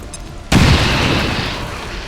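An explosion blows up an enemy in the XCOM video game: a sudden loud boom hits sharply and then fades into a long rumbling tail.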